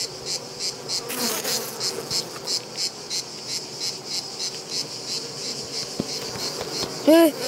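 Honey bees buzz densely and steadily around an open hive during an inspection on Kea, a close, pulsing drone with a few individual bees zipping past, while people talk quietly nearby.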